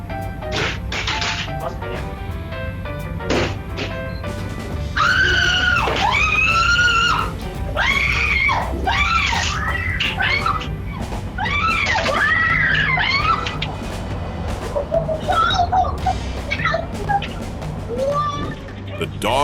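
A young man screams loudly and repeatedly to scare off furry animals on a property, his long wavering yells close and harsh, with bangs and scuffling noise around them.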